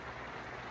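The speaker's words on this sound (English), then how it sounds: "It's raining really hard right now." Heavy rain pours down outside in a dense, steady hiss of drops, faint and continuous with no voices.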